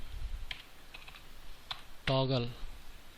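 Scattered keystrokes from a computer keyboard as code is typed, a few light separate taps followed by a quick cluster of clicks. A voice speaks over the typing.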